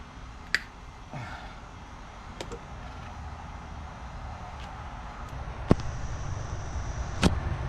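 Sharp snips of cutters through the wires of a Yamaha outboard's trim and tilt pump, four crisp isolated clicks spaced over a steady low background rumble.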